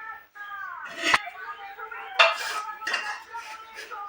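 Dishes and cutlery clink at a home family meal as everyone sits down to eat, with a few sharp clatters rising over steady conversation close by.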